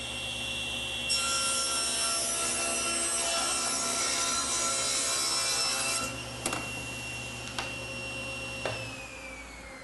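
A table saw runs steadily while cutting wood, a sustained whine with a rough rasping texture, then spins down near the end with a few soft knocks and no talking.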